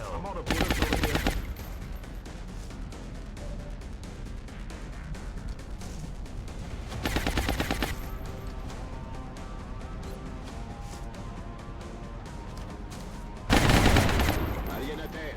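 Gunfire in XCOM Long War: three loud bursts of rapid automatic fire spaced several seconds apart, over a quieter rumbling battle background.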